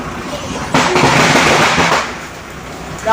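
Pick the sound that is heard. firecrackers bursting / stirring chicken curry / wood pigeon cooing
firecrackers bursting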